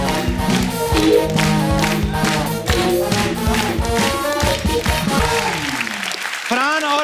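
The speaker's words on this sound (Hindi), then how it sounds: "एक बार फरहान और प्रियंका के लिए जोरदार तालियां" The studio audience of The Kapil Sharma Show claps loudly for Farhan and Priyanka, a steady wash of applause mixed with loud music and voices, ending in a brief rising tone.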